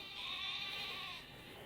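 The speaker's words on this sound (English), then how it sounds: "Sheep!" A sheep bleats in the Pokémon Shield video game: one sustained, wavering bleat of about a second that holds steady at moderate volume, then tails off softly.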